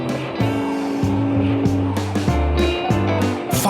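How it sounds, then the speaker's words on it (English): Cartoon car wheels slipping as the car slides backward down a slope, with stepped engine tones and repeated squeals over a busy, loud background. "The wheels started to slip, the car stopped, and slipped back."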